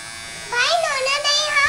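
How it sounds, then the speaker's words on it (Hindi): An electric hair trimmer starts up and buzzes close by as it cuts a child's hair at home, a steady whine that wavers slightly in pitch as the blade moves through the hair. "ट्रिमर ना अरहान को बहुत पसंद है"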